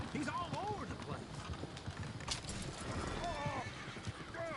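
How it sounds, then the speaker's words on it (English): Horses in Red Dead Redemption 2 pull a coach at a run, steady clip-clopping hooves mixed with repeated whinnies and neighs over a busy, continuous background. "Oh, shit, the horses!"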